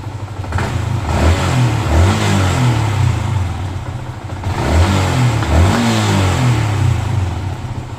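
A Yamaha Exciter motorcycle upgraded to 165cc with an aftermarket ECU revs loudly up close in two long rising bursts, its engine note climbing and falling with a rough clattering edge.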